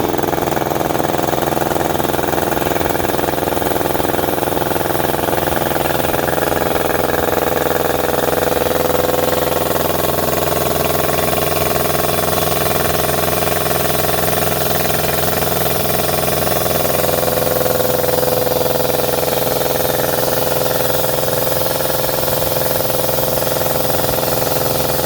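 A DeWalt air compressor runs continuously and loudly, its motor droning with a steady mechanical hum and rattling vibration as it builds pressure, with no talk over it.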